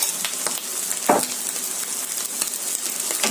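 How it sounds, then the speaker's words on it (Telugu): Ghee sizzles and crackles steadily in a hot pan while egg rice is being cooked, with a few sharper pops and spatters breaking through the continuous frying hiss. "ఇప్పుడు వేస్తున్నానండి, 1 స్పూన్ నెయ్యి"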